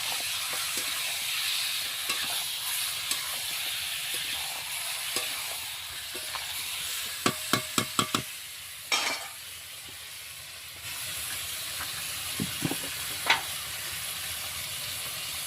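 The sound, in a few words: stirring sizzling meat with salt and turmeric in pan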